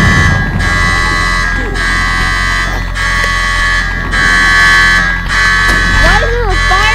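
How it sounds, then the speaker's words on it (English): Fire alarm in the Roblox road trip game, a repeating electronic buzzing tone pulsing on and off in steady bursts while a person talks over it. "Why is there a fire alarm going in there?"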